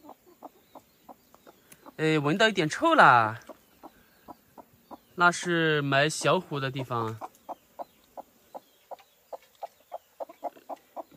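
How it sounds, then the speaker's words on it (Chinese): A broody mother hen sitting on seven eggs clucks to her chicks, giving a steady series of short, soft clucks close by, while someone talks over them in two stretches. "它发出这种声音啊，是带小鸡的声音。"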